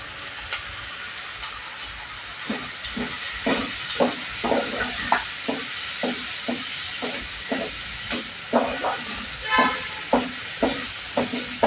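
Rice poured onto sizzling fried masala in a pot, a steady hiss of frying with a run of soft, irregular taps and scrapes as the grains go in and get stirred, close and moderately loud.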